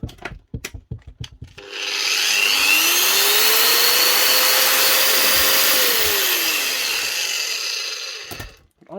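A 900 watt angle grinder with soft start winds up, whines steadily at high speed for several seconds, then spins down, loud and close, after a few handling knocks.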